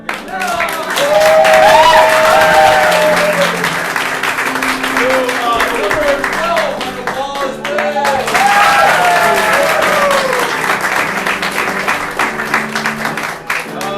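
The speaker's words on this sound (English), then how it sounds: "let's give a round of applause" Audience applauds loudly with scattered cheers while a voice talks over the clapping, continuing steadily throughout.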